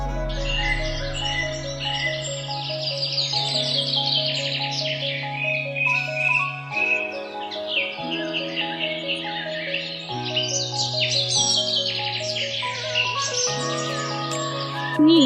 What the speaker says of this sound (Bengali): আমি পাখির গান শুনলাম।